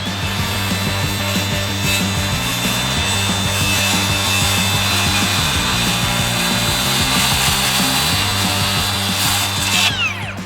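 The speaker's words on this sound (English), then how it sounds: "I'll try undercutting and finishing with the Sawzall" Sawzall reciprocating saw cutting through exterior lumber, a loud, steady buzzing saw drone that runs without a break for about ten seconds, its pitch shifting slightly as the cut loads and eases, ending in a short higher-pitched squeal.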